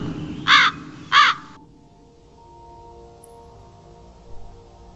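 Two loud, harsh crow caws in quick succession, close and clear, followed by a quiet low hum and near silence.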